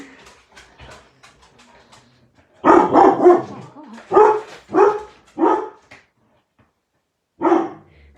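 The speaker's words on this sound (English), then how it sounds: "I might have to shut the dog out because he's being very naughty" An indoor dog barks at a parcel delivery at the door: faint whimpers and yips first, then a run of loud, close barks in quick succession, a pause, and one last bark.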